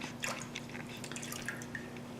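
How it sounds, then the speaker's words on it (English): Rinsed alfalfa sprouts drain on a clean dish towel, with quick, faint, irregular water drips pattering one after another over a quiet low hum. "let them just sit there for a while and drain some of that water off them"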